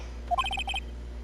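A short melodic phone ringtone in a game scene, a quick run of bright electronic tones in two bursts, fairly clear over a low steady hum.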